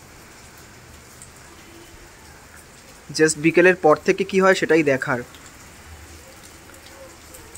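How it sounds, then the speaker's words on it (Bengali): Steady rain falls during Cyclone Remal as a soft, constant hiss in the background, with a person speaking briefly over it partway through. "বেশ ভালোই বৃষ্টি হচ্ছে"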